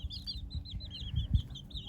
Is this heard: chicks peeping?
yes